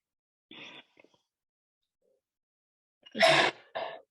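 A single sharp sneeze bursts out near the microphone in a quiet room during a yoga class, preceded by a short soft breathy sound and followed by a brief voice.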